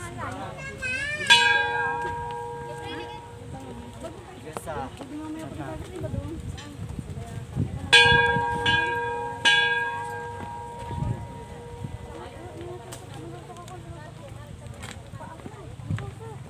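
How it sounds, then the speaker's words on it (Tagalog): A church bell rings at Caleruega church in Batangas, with two strong strikes whose tones hum and fade slowly, followed by a few lighter strokes, while voices murmur nearby. "ring the bell"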